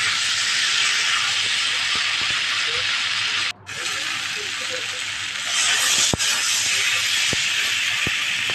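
Ginger and cumin sizzle in a hot pan, giving a bright, steady hiss. A few sharp clicks cut through it, and there is one brief dip partway through before the frying noise returns slightly louder.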